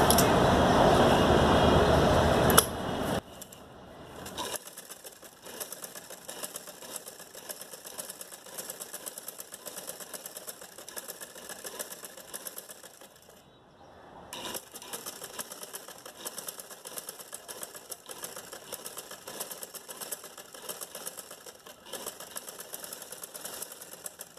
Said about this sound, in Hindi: रखने के बाद हम यहाँ पे सिलाई शुरू करेंगे। पतली पतली सिलाई करेंगे